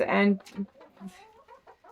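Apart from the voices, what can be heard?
chickens, rooster and hens in a coop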